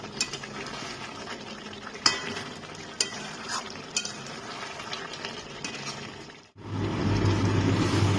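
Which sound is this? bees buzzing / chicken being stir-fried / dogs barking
chicken being stir-fried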